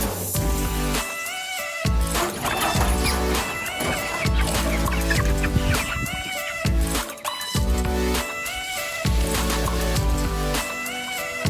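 Ten Cornish Cross meat chickens, outside for the first time, cluck and chatter steadily and densely throughout, the calls close and continuous with no talk.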